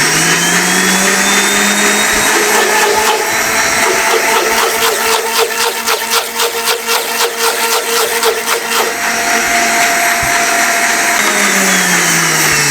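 An electric kitchen grinder blends chili and lemon juice paste with a little water, a loud steady whirring motor whine that runs continuously with a rattling, pulsing stretch in the middle.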